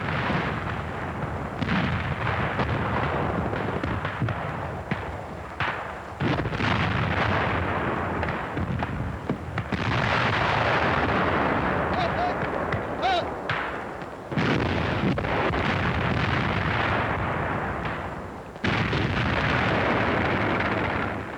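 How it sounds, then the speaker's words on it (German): Wartime artillery fires in support of advancing tanks in an archival war film. Repeated loud, rumbling blasts and bursts of gunfire rise and fall across the whole stretch, with no clear speech over them. "Artillerie unterstützt den Einsatz der Panzerkampfwagen."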